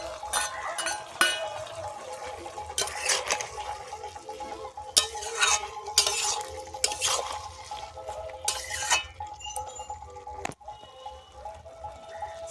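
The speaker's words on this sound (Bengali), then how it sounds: "চাপাটা খুলে একটু নেড়ে নেব।" Bottle gourd and fried prawns being stirred in a pan for Bengali lau chingri, with intermittent scraping and clinking bursts of a spatula over a faint background sizzle, close by and irregular.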